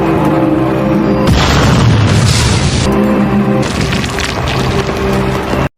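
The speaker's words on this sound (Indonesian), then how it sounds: "Mobil pun kemudian meledak dalam kobaran api." A car blowing up into flames in an action film scene, a loud continuous roar of blast and crackling debris that surges twice and ends abruptly.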